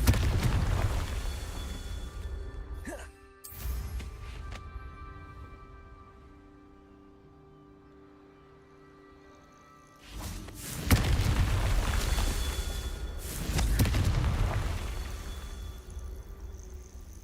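A Confringo blasting spell in Hogwarts Legacy sets off heavy thuds and booms at the start, then a quiet stretch follows, and another loud burst of rumbling impacts comes near the end.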